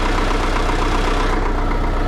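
An old tractor engine, a grandfather's first tractor just started after winter, idling with a steady, dense low-pitched chugging rumble, loud and close, running alone without voices.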